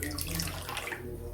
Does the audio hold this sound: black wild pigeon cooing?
no